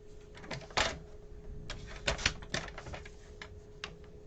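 Paper strips being cut for a handmade ribbon card, heard as a few crisp, close snips and rustles scattered through the clip, with one louder cut near the start and no talking.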